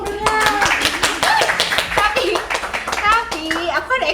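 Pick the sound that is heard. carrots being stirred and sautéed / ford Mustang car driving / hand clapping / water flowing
hand clapping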